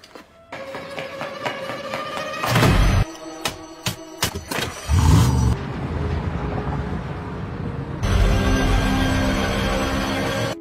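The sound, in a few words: car starting and speeding off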